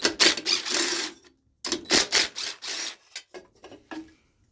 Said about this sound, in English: And I'm using the impact because it's a bit faster.